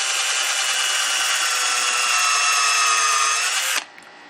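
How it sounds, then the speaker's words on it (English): A power drill runs continuously as it drills into the center of a cigar pen blank, a loud, steady high-pitched whir lasting nearly four seconds before cutting off sharply. "So now we're going to drill the holes into the center of the"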